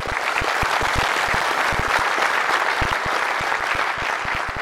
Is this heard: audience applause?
yes